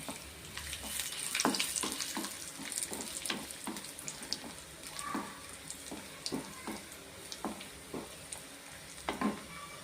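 Cashews and raisins frying in oil for rava kesari, a steady crackling sizzle with sharp pops and occasional stirring scrapes, close and moderately loud with no talking.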